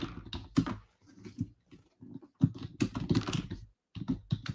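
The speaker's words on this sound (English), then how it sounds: "I'm just typing in our chat as we're going." Someone types on a computer keyboard during a day-trading session, with bursts of close, quick key taps separated by short pauses.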